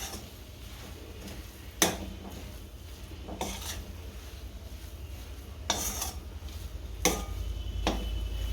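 A spoon stirs a potato-pea masala filling in a metal pan, giving soft scraping with several sharp clinks of utensil on pan spaced a second or two apart. The stirring is close and quiet, and no one talks.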